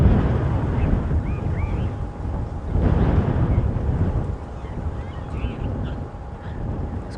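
Wind gusts rumble in low buffeting surges across the microphone on a windy, eerie afternoon safari drive, with faint birdsong chirping in the background.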